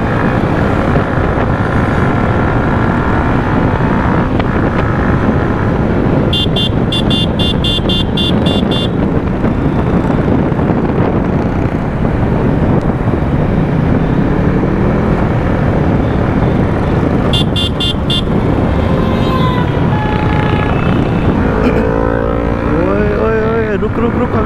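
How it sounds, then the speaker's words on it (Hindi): A Kawasaki Ninja 300 motorcycle engine runs steadily while riding, with loud continuous drone, wind rush and shifting revs, plus brief bursts of high-pitched chirping tones twice. "अपने निंजा 300 की बहुत ही प्यारी साउंड आ रही है"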